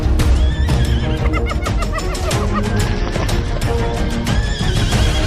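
Frightened horses whinny and neigh repeatedly as hyenas rush out of dry grass in the Cerrado, with loud overlapping calls and thudding movement throughout.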